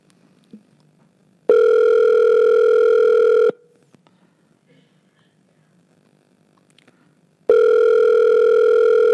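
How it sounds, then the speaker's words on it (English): A loud telephone ringing tone of an outgoing call sounds twice, each long buzzing burst separated by several seconds of near silence. "Phone ringing"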